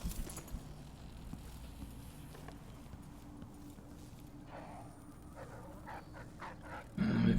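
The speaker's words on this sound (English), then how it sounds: "And we've got dogs." Dogs in the Dishonored 2 video game make faint, scattered distant sounds under a low ambient game drone, followed by a louder burst near the end.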